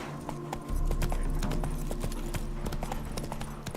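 Horse hooves gallop in the game The Witcher 3: Wild Hunt, a brisk, even clip-clop rhythm that starts after a short pause and carries on close and clear, without speech.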